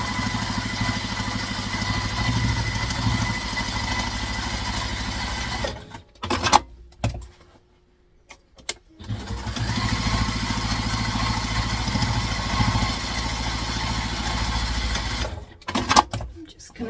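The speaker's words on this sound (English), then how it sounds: "we're going to stitch it with the seam allowance stated in the pattern" A sewing machine stitches the seam of a travel tote, a loud steady mechanical whir that stops briefly with a few clicks and then runs again.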